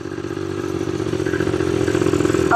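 A rough-running ATV engine drones steadily up close, loud and continuous with a slight rattly clatter and a hint of revving near the end, with no voices over it.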